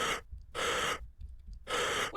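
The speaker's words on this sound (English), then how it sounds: "What was that gasp?" Three sharp, breathy gasps from a horror game, each a loud inhaled rush of air lasting about a quarter second, spaced by short silences with no talking.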